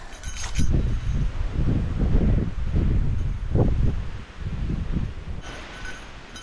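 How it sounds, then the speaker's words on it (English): Strong wind rips across a mountain trail in the Appalachians, a continuous loud rushing roar with gusty low buffeting against the microphone, carrying through the whole stretch without letup. "Look at this wind just ripping through, carrying all this mist with it."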